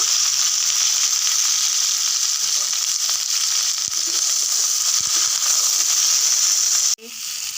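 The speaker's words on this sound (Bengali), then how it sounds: "এতে এই ক্যাপসিকাম, আলু, বেগুনটা ভালো করে ভেজে নেব।" Capsicum, potato and eggplant fry in hot oil, a loud, steady sizzle held close throughout, with a brief clatter near the end.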